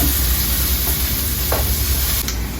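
Shredded carrot and vegetables fry in a pan with a steady, close sizzle and hiss, occasional light stirring, no talking.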